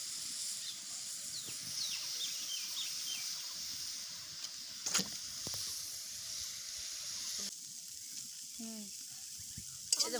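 Eggs fried in oil in a pan until golden for a rohu fish and pointed gourd roe curry, sizzling and hissing steadily throughout with a few stirring clinks.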